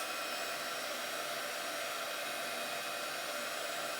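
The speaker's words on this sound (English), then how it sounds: "I'm going to hold this down so it doesn't blow away and heat it for a couple of seconds" Heat tool blowing hot air onto shrink plastic for a craft floral hair pin, a steady, loud whooshing roar of airflow held without a break and with no voices.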